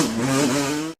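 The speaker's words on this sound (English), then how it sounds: "The engine screams as the machine darts out of the bushes." A Suzuki LT500 Quadzilla four-wheeled quad screams at high revs, a loud, sustained buzzing engine wail with a slight pitch rise and dip, bursting from bushes onto gravel before cutting off abruptly.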